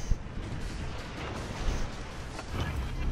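Warship guns firing in World of Warships Legends, a steady rumble of deep booms with a few sharper blasts near the start and end, spread through the whole stretch with no voices over it.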